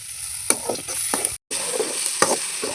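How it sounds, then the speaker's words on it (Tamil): Tomatoes frying with onion, ginger-garlic paste and green chili in a village kitchen pan, a steady close sizzle broken by repeated scraping stirs and a brief silent gap midway. "இஞ்சி பூண்டு பேஸ்ட்டு, வெங்காயம், ஒரு பச்சை மிளகா வதங்கினோடனே தக்காளி போட்டு வதக்கணும்."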